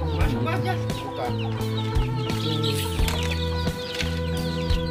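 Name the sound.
free-range village chickens clucking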